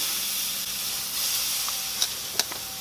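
Tri tip searing on a Weber kettle grill, a steady hissing sizzle of meat on hot grates, close and moderate, with a couple of brief sharp clicks or taps near the end and no talk.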